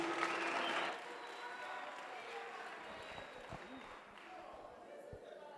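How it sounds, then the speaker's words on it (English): Audience applause at a public hearing on a climate change bill in a community hall, a dense burst of clapping at the start that fades into a murmuring crowd with scattered claps and thumps. "Be careful of the clapping."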